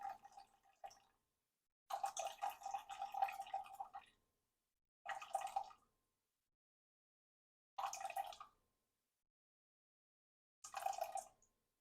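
Hot filtered water pours into a mixing bowl for sourdough in several separate short bursts of faint splashing and trickling, each separated by silence.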